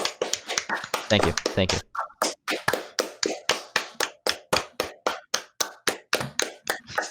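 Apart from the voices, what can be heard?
applause, clapping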